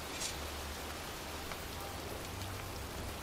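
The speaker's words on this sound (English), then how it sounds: "standing in a cemetery, pouring rain" Pouring rain falls in a cemetery in the video game Heavy Rain, a continuous close, even wash of drops and splatter with nothing else standing out.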